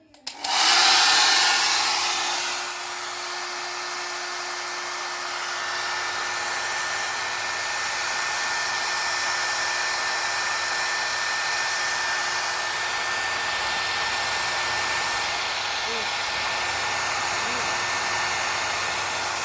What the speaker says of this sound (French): Pour procéder à ce test, nous sommes équipés d'un sèche-cheveux Tristar.